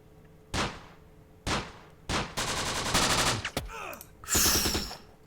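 Gunfire rattles through a Close Combat battle in an Italian desert stronghold: several sharp single reports, then sustained bursts of rapid machine-gun fire and a final loud volley, close and heavy, with no talking.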